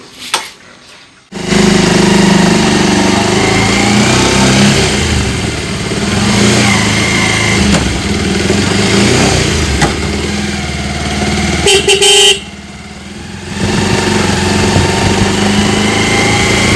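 A motorcycle engine idles and revs loudly and close up for most of the stretch, dropping out briefly in two spots before returning; no distinct horn stands out.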